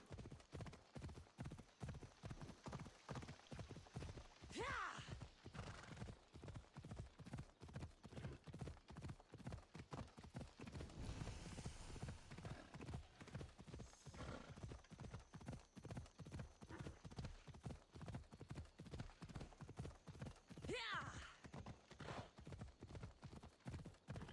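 Horse hooves gallop in a fast, steady, even rhythm for the whole stretch in the video game Assassin's Creed Odyssey, close and unbroken, with no talking.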